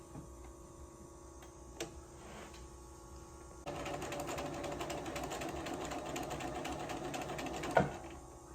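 Sewing machine stitching cut quilt fabric squares together for a baby quilt, a steady close mechanical whirr with rhythmic needle ticking that starts partway through and runs continuously over a low background hum.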